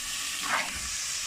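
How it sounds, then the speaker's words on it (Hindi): Minced meat mixed with bone hits sizzling ginger and garlic in a hot pan, giving a brief hissing surge of sizzle over a steady background crackle. "साथ ही मैं इसमें अपना कीमा ऐड कर देती हूँ"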